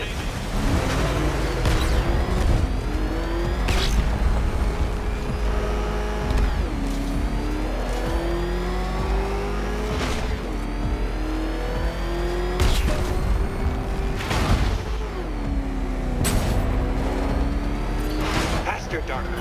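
Batmobile engine racing in Batman: Arkham Knight, a steady revving drone with pitch sweeping up and down and occasional sharp surges, running continuously under a talking voice.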